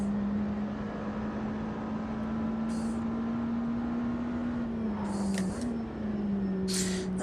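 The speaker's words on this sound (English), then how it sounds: "That first touch on the brakes, it sounds like it's trying to lock up." A supercar in Automobilista 2 holds a steady engine drone, then the pitch dips under braking as the tyres near lock-up, with short hissing bursts of tyre scrub, close and moderately loud.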